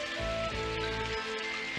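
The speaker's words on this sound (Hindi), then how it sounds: "बारिश शुरू हो गई।" Cartoon rain begins as a steady hiss of falling drops, layered under tonal background music throughout the short scene.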